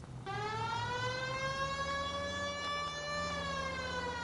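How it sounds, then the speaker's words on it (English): A police siren wails, rising and holding a steady tone, fairly loud over a low rumble of traffic, with no talking. "we got a siren, Phelps."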